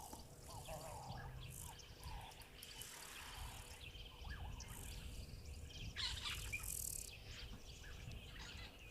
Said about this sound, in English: So black-headed orioles still about. There's also the odd black-crowned chagra too.